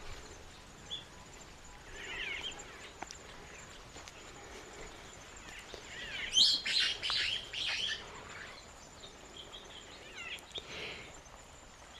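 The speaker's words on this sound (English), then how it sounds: "and hear the birds" Birds chirp and tweet intermittently at a distance, with a brief busier burst of calls midway, over quiet outdoor ambience.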